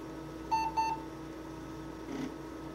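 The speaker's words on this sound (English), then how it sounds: "the 2 beeps on startup are normal for old Compaq systems" Two short, high electronic beeps in quick succession from an old Compaq Portable 386/20 computer at startup, over a steady background hum.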